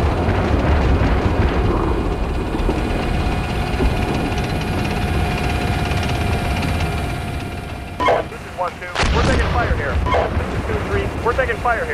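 Incoming fire in the Steel Beasts Pro tank simulation: a dense, continuous rumble of engine and battle noise with heavy low-end booms, broken by a sharp burst and brief drop near the end, under radio-style talk.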